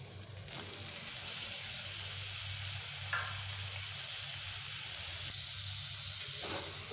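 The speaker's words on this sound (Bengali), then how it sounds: "ঝিঙে দেওয়ার পরে আমি এই মশলার সঙ্গে ঝিঙেগুলোকে আরও একটু ভালোভাবে এইভাবে ভেজে নেব।" Ridge gourd frying with spices in a hot pan gives a steady, close sizzle that runs without a break, with a few faint clinks of stirring and no talking.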